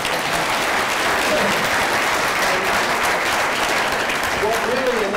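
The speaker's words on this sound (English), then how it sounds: "And I think you deserve a round of applause." Audience applause for a distinguished lecturer at a lecture event, a steady, dense clapping that fills the room without a break, with some faint crowd murmur mixed in.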